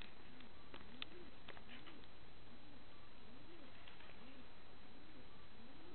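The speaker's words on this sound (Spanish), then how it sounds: "Tenemos reunión de palomas al mediodía." Pigeons gathering at midday give soft, repeated cooing calls, faint and steady against a constant background hiss, with no one speaking.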